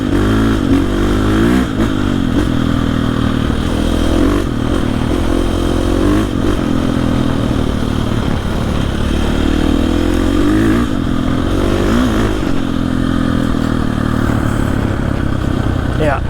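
A dirt bike creeps slowly along a rocky woodland trail in central Maine, its engine loud and close with repeated throttle blips and revs, rattles and scrapes from rocks, and a rider talking over the motor.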